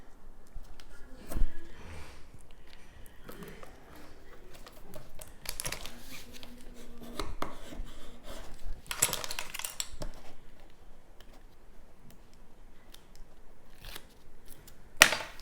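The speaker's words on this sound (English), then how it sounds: "We're going to use tear tape first on this side." Tear tape being peeled and applied to a paper craft box, giving sparse crinkly paper rustles, faint taps and occasional sharp crackles, close and quiet with no talk.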